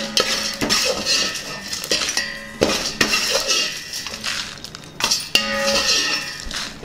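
Cooked mixed vegetables are scooped from a pan into a bowl with metal utensils, giving repeated close, bright clinks and scrapes in an irregular rhythm.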